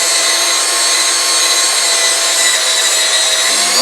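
Steady, loud abrasive hiss of sandpaper against a spinning wooden bowl on a lathe, an unbroken rushing whir with no pauses or voices.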